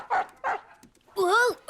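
A dog in a French animated cartoon gives two short close barks followed by a rising, drawn-out whimpering whine, loud and alone without overlapping talk.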